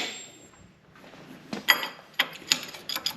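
Metal clicks and ratcheting ticks from a wrench working on the caliper bracket bolts of a 2007-2018 Jeep Wrangler JK's front brakes, a few sharp close taps following a quiet lull.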